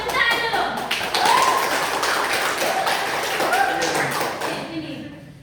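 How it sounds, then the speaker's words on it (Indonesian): High school students clap in a classroom, a busy patter of many hands with chatter and voices mixed in, tapering off at the close. "Tepuk tangan dulu."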